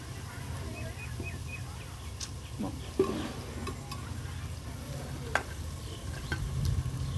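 Ridge gourd pieces cook in oil with a quiet, steady sizzle and occasional stirring scrapes, over a low background hum, with faint chirps early on.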